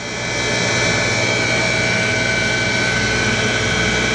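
An automatic rotary surface grinder for punches and dies, driven by a DC motor and running dry without coolant on slow auto feed, gives a steady, loud, unbroken mechanical whir and hum that never changes pace.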